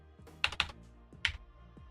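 Keys clack on a new computer keyboard in a short irregular burst, a pair of quick strikes, then a lone strike and softer taps, close up with no talk.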